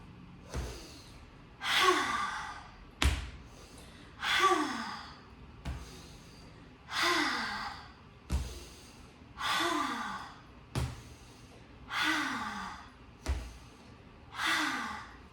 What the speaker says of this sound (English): you're gonna exhale through your mouth going like this